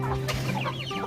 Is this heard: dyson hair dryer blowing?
no